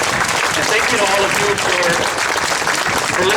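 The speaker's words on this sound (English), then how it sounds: "Please, another round of applause." Loud, steady applause from an audience at a San Jose city council meeting after a resolution is read, with voices mixed in under the clapping throughout.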